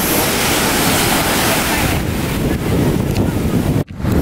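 Waves breaking on a Punta Cana beach in the Dominican Republic, with wind buffeting the microphone. The roar is loud, steady and close throughout, with no talking.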